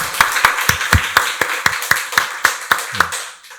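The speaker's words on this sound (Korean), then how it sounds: "박수로 하나님께 영광 돌리겠습니다." A church congregation claps together during a Sunday worship service, about a dozen sharp evenly spaced claps in a steady rhythm, fairly close and loud, ending in a brief trailing clap.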